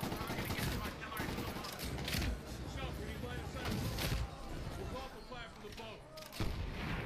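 Continuous video-game gunfire and explosions in a Somalia battle level of Medal of Honor Warfighter, a dense, steady barrage of shots with voices under the din.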